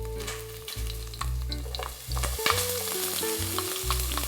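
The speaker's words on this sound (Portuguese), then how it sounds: "agora aqui eu vou suar um pouquinho a cebola no azeite" Chopped onion sweats in olive oil at the start of a traditional Italian risotto, a steady close frying sizzle over a repeating low musical backing, with no talking.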